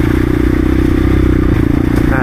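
A motorcycle engine drones loudly and steadily while the bike rides over rocks at an abandoned mine, with clattering and scraping mixed under its continuous rumble.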